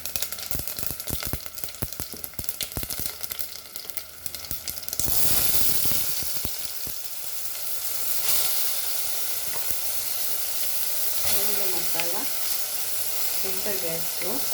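Masala hits a hot pan for Goan taro-leaf alu bhaji, bursting into a loud, continuous sizzle after stirring and scraping, with a voice talking faintly over the frying later.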